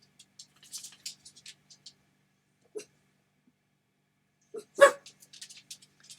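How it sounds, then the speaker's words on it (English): A few scattered dog barks, sharp and sporadic, one louder bark standing out amid faint clicks and patter in an otherwise quiet room. "Sorry about the dogs, guys."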